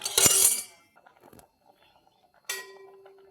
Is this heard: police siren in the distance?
no